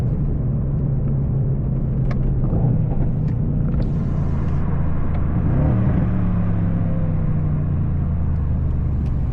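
A Mercedes-AMG C63 S drives on the road, heard from the cabin as a steady, loud, low engine rumble and road roar that swells slightly midway, with no talking.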